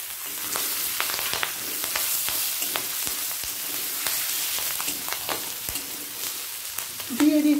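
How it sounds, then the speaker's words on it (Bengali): Chopped green chillies hitting hot oil in a cumin and dried chilli tempering, a dense close sizzle broken by repeated sharp spatula taps and stirring scrapes, with a brief louder burst near the end. "ফোড়ন থেকে সুগন্ধ বের হলে এরপর দিয়ে দেব কুচিয়ে নেওয়া কাঁচা লঙ্কা"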